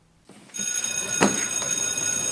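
An electronic telephone ring in the video game Project Zomboid, bright sustained tones, starting after a brief quiet moment and continuing steadily with a sharp clatter midway.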